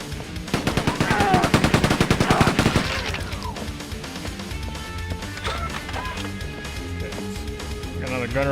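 An enemy gunner fires in Quake 2 on PlayStation: a loud, rapid machine-gun burst of evenly spaced shots for a few seconds, then quieter scattered game sounds while a player talks over it.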